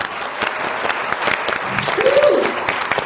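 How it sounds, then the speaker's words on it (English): Audience applause for a panel at a community event on migrants and refugees in Hackney, full sustained clapping with a voice briefly calling out over it near the end. "Can we give a massive round of applause for our panel?"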